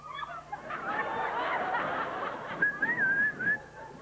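A stand-up comedian on stage imitates a whistle with his voice, giving a thin, wavering high tone. Audience chuckles and laughter rise around it.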